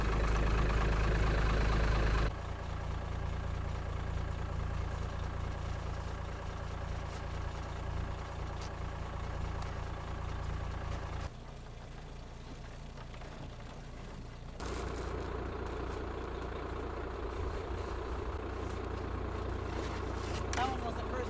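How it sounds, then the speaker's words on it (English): A low, steady engine idle rumbles continuously at about 200 RPM, with occasional shifts in tone and faint background sounds. "Shoot, it's idling really low."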